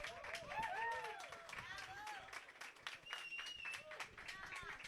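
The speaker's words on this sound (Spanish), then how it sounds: "Un aplauso fuerte Fuerte, ahí. fuerte ese aplauso." Applause and clapping from an audience fill the space, steady and lively, with crowd chatter and a voice speaking over it.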